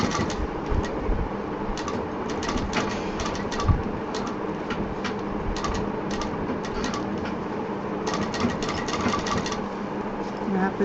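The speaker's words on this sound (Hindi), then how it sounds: "ये जो जोड़ है इसको इस तरफ से एक बार मशीन चला देते हैं ताकि ये सिलने में दिक्कत ना करे" Sewing machine stitching over a doubled joint on a handbag seam, a steady mechanical whir with faint clicking bursts, running continuously at moderate volume.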